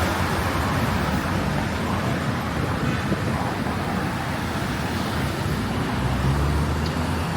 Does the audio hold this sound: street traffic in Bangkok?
yes